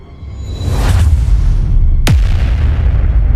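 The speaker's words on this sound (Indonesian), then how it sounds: "Ledakan energi hijau yang sangat liar menghantam pilar penyangga utama hingga hancur berkeping-keping." A deep rumbling blast of green energy with a rushing whoosh, followed by a sharp, bright crack as a support pillar shatters, dropping into a low boom over continuous roaring noise.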